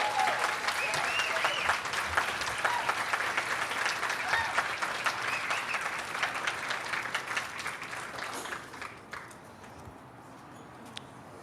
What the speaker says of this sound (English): So please give her the welcoming applause that she deserves.